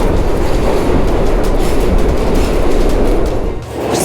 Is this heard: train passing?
yes